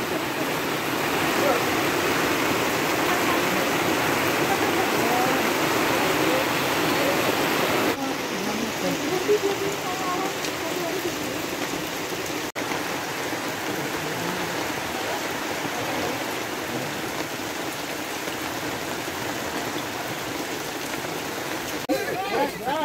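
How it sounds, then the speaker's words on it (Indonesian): Steady, dense rain falls at a trail post on Mount Ungaran, a continuous loud hiss throughout with hikers sheltering nearby, faint voices and movement mixed in under the downpour. "Kondisi sudah turun hujan di pos 3"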